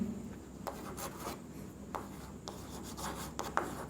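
Chalk or marker scraping and rubbing across a board in a physics classroom, a dry rasping texture with scattered taps and strokes, fairly close, no talking over it.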